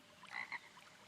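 A frog croaks near a pond in a video game, a short faint call of two quick bursts heard alone against quiet background.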